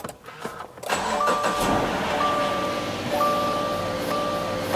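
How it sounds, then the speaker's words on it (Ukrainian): A freshly washed car engine cranks briefly, catches, and settles into a steady, loud idle with a faint whine running over it. "Все чутенько, завелася наша машинка."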